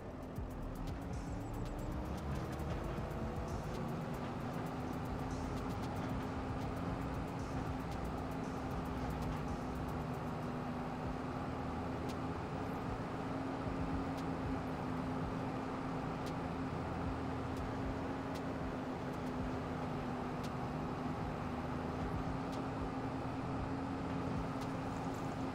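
A steady mechanical roar from a blower filling straw into a storage building in Farming Simulator 25, a continuous even drone with a low hum that holds level the whole time.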